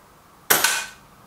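A single sharp crack from a Kral Puncher Maxi air rifle, its first shot of the day, close and loud, with a short bright ring fading over about half a second.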